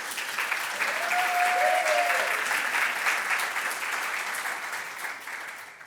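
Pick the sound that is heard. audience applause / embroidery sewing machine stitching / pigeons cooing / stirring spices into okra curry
audience applause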